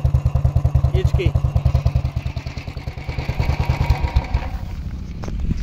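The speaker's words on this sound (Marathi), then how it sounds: "तो ओल्ड गोल्ड मधला सायलेन्सर आहे मित्रांनो ह्यो गाडीला टाकलेला मी" A motorcycle fitted with an aftermarket Old Gold silencer exhaust idles close by with a loud, rapid, even thumping beat that eases slightly toward the end.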